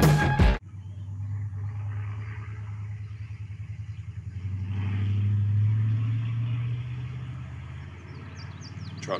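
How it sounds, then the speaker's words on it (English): Truck engine idling and rumbling with a low, rhythmic throb and faint clatter, rising in a brief swell midway before settling; a sharp knock opens the sound and no one speaks. "Trucks, making noise. Making not so good noise."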